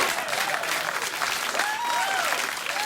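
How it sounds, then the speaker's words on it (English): A late-night talk show studio audience applauds loudly and continuously, a dense close wash of clapping with a few scattered whoops and cheers rising over it. "Please don't applaud."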